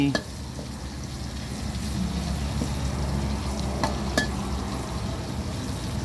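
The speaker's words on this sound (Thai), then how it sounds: "เจียวไว้ใส่ก๋วยเตี๋ยวเจียวไว้ใส่ ต้มจืด" Frying in hot oil for a Thai pork noodle soup, a continuous hissing sizzle with a low rumble underneath and a few sharp ticks and clinks, voices talking through it.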